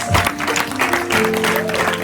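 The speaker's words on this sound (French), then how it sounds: "Est-ce qu'on peut acclamer très fort?" A church congregation cheers and applauds loudly to celebrate thirteen baptisms, a dense, steady wash of clapping and voices lasting the whole moment, with faint tonal sounds beneath.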